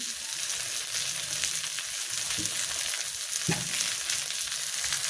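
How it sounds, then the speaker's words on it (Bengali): Eggplant fried with egg sizzles steadily in a pan on a village stove, a loud, close, continuous frying hiss with a couple of brief stirring scrapes. "তো ডিম দিয়ে বেগুন ভাজি হয়ে গেছে, আমি এখন নামাই নিচ্ছি।"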